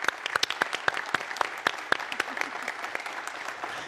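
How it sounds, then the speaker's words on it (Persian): A TV show studio audience applauding a guest, with sharp, rhythmic clapping at first that then loosens into a fuller, scattered round of applause. "اجازه داریم تشویقشون کنیم؟"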